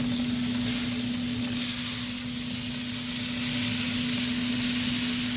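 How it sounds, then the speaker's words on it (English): Water sprayed onto a pork belly smoking in a pit held around 225 to 250 degrees gives a continuous soft hiss, steady and close, with a low constant hum beneath and no voices. "Just spray water about every half hour or so."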